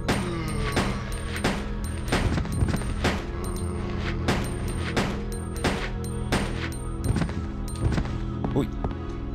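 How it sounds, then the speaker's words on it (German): Repeated pistol shots at zombies in the video game Resident Evil Code: Veronica X, sharp loud bangs at irregular intervals over a busy game soundtrack. "Okay, dann nehmen wir mal die Pistole."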